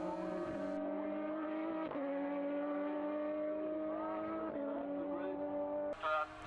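Formula race cars at a Formula BOSS Ireland championship round accelerate away at a restart, engines whining loudly with rising and shifting pitch and brief gear-change breaks, close and continuous.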